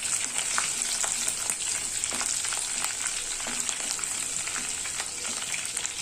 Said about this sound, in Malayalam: ഇതിലേക്ക് 3 പച്ചമുളക് പൊടിയായിട്ട് അരിഞ്ഞു വെച്ചിട്ടുണ്ട്. ഇത് ചേർത്ത് കൊടുക്കാം. ഇതൊന്ന് വഴറ്റി കൊടുക്കുക.